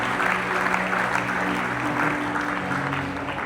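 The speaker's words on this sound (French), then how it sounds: "Acclamons le Seigneur, s'il vous plaît." A church congregation applauding during a sermon, dense steady clapping from a crowd filling the room with some voices mixed in.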